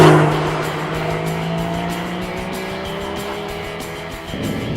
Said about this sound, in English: if you put the car into sport mode by pressing this button here, it will even blip the throttle on the downshift